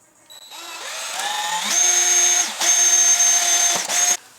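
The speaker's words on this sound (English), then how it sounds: "I'm gonna drill right here and right here now on the bottom" Cordless power drill working holes into the fender of an E36 for an overfender fitment: it spins up, whines steadily and loudly nearby with a slight pitch rise, pauses briefly, then runs again before stopping.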